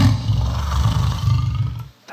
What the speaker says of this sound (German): Das ist ein Löwe.